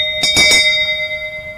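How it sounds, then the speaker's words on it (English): Wedding bell rung by the bride and groom at a beach ceremony: a few quick clangs in a row, then a bright, sustained metallic ring fading slowly into quiet, loud and close with no talk. "I ask you to give the bell a hearty ring while thinking lovely thoughts about one another"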